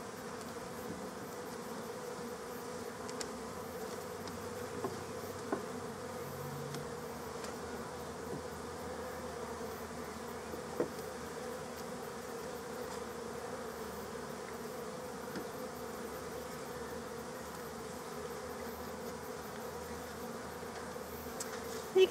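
Honeybees being moved into a long bench hive hum in a steady, soft, continuous buzz with occasional faint clicks and knocks of hive handling.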